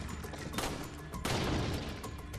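Pistol gunshots in the video game Resident Evil 4, two sharp cracks about half a second apart over a steady game background, close and fairly loud.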